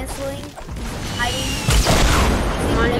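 Rocket blasts in a multiplayer shooter game, a deep boom with a crashing rumble partway through, heard under excited talking from players.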